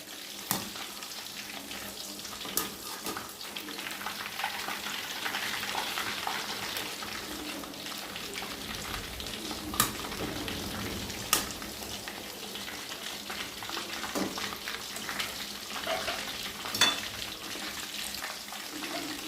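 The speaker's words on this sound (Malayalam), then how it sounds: "ഈ മസാല വെട്ടി വെച്ചിരിക്കുന്ന ചിക്കൻ ഒന്ന് മുക്കിയിട്ട് ഇതിലേക്ക് എണ്ണയിലേക്ക് നമുക്ക് ഇട്ട് കൊടുക്കാം" Masala-coated chicken pieces fry in hot oil, giving a continuous close sizzle and crackle with scattered pops and stirring clinks throughout, no voices over it.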